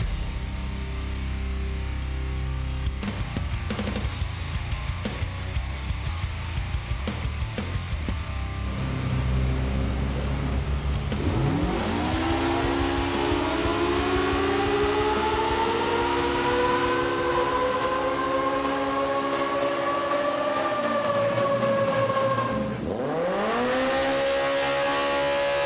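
Polaris RZR Pro R fitted with a custom MBRP exhaust, idling with a rough burble and then revving repeatedly, rising and falling in pitch, loud and close with no talk.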